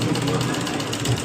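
A sewing machine runs through a third line of stitching, a steady rapid mechanical chatter with a clicking rhythm, close and continuous for a moment.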